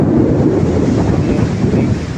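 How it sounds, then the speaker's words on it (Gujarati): Strong wind roars and buffets the microphone in a loud, continuous rush on top of Barda hill near Porbandar during a thunderstorm, and the heavy rain is lost in the gusts. "આ એકદમ પવન પર છે અત્યારે અને વરસાદ પણ ફૂલ વરસી રહ્યો છે અત્યારે"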